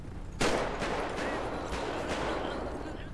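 Gunfire in the video game GTA V with the LSPDFR police mod, a sharp loud shot followed by a rapid burst of further cracks and reverberating echoes over a few seconds, with no talk.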